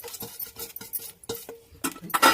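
Jaggery being stirred and sautéed in a pan over low heat, giving a run of close, light scraping and clinking utensil sounds with short pauses between strokes.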